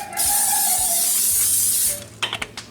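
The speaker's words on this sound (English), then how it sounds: "I'm gonna spray this 9x13 casserole dish." Cooking spray hisses from an aerosol can onto a 9x13 casserole dish in one loud, continuous burst of nearly two seconds, then cuts off, followed by a few light clicks and knocks.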